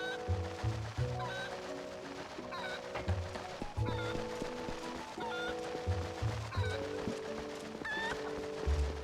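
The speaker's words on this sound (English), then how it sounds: "What a distressed chicken." A distressed chicken in the video game The Legend of Zelda: Twilight Princess HD clucks and squawks in repeated agitated bursts over a steady low game background, with no talk.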